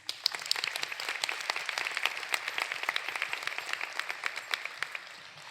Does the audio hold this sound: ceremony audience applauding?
yes